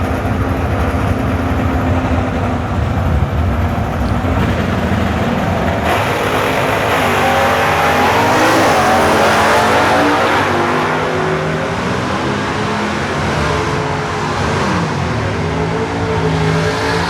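Stock car engines roar at a Beech Bend stock and super stock race, Oldsmobile 307 G-body cars among them, a loud continuous wall of several engines with pitch sweeping up and down as cars pass close by.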